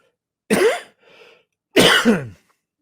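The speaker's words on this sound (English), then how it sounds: "Sorry, I coughed in the microphone." Two sharp coughs close to the microphone, separated by a brief softer breath, in an otherwise silent room.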